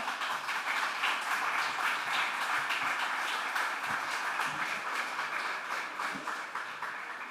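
An audience applauds Juan Carlos and Guillermo at a Chilean political programme gathering, a steady dense patter of clapping that holds at one level for the whole stretch, with no voices over it.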